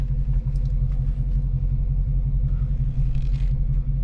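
A 1970 Dodge Dart Swinger 340 idling low and steady as it is eased into a parking spot, a loud continuous rumble with light scrapes and no talk.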